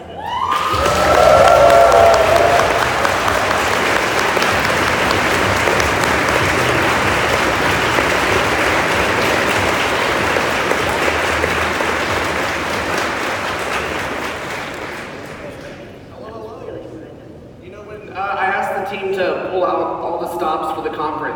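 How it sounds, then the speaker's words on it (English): Sustained loud applause with cheering from a large conference crowd at a Bitcoin event, building quickly, holding steady for about fifteen seconds, then fading before talk resumes. "Can you please give a huge round of applause to Edward Snowden?"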